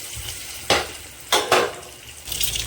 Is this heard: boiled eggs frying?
yes